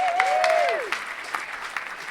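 Brief applause greets a guest on a comedy film quiz podcast, preceded by a rising and falling whistle-like tone, then scattered claps that thin out over about two seconds.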